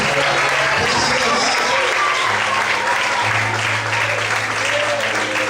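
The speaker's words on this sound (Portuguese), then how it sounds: "Você pode aplaudir o Senhor bem forte." A church congregation applauds loudly and continuously, dense clapping filling the room with a low hum underneath and a few voices mixed in.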